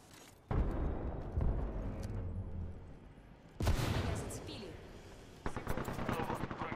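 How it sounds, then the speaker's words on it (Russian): In Apex Legends, a frag grenade goes off as a deep, booming blast, followed by another loud burst amid game gunfire, with a voice speaking over the action. "Кидаю осколочную."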